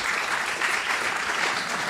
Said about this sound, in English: First time I've ever been clapped.